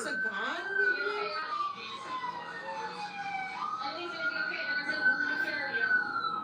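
An emergency siren wails and sweeps up and down in pitch, loud and close, with faint voices mixed underneath.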